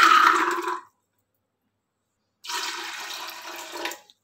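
Water poured into a pressure cooker holding soaked white chickpeas, a steady splashing pour for under a second, a pause, then a second longer pour of similar loudness, close by with no talking.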